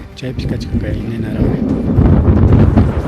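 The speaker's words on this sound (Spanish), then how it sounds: "Hay un fuerte ventarrón en estos momentos." Strong gusts batter the microphone on the Cerro Antijocha hilltop above the community of Ajomarca, a loud rumbling wind that builds toward the end, with a voice speaking over it.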